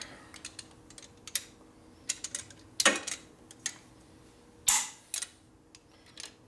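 A torque wrench tightening a transmission bolt on a 1967 Harley-Davidson 74ci Shovelhead FLH gives a series of close, sharp metallic clicks and ratcheting taps, irregular and spaced out, with a few louder snaps.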